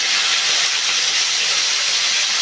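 Green chillies and curry leaves sizzle loudly in hot oil with popping mustard seeds, a steady dense hiss that fills the whole stretch, no talk.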